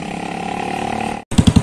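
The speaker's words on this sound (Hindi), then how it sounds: "साइलेंसर उतार दिया हुआ है अपने बाइक का," A Royal Enfield Classic 350 motorcycle engine runs with its silencer removed: a loud, rough, buzzing idle cuts out abruptly, then returns as several heavy, rhythmic exhaust thumps close by.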